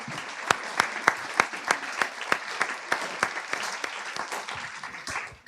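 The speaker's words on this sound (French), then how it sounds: "Et en attendant, on peut déjà les applaudir." Audience applause at a talk event, with many hands clapping in a lively, uneven rhythm and sharp individual claps standing out before it thins toward the end.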